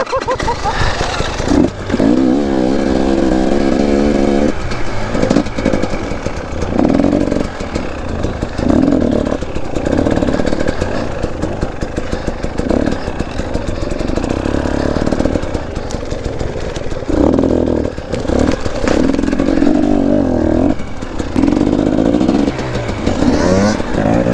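Dirt bike engine being started and revved nearby, a loud rough running drone with repeated surges in pitch and a few clattering knocks, while a voice speaks briefly.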